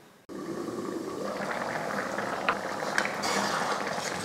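A pot of Tamil kulambu with cowpeas, eggplant and dried fish simmers under its lid. After a brief quiet start, a steady bubbling boil continues, with a few small pops rising above the even hiss.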